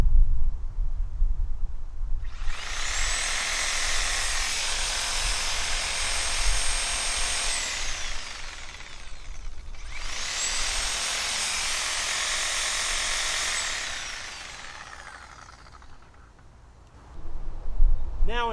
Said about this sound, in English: A sawzall.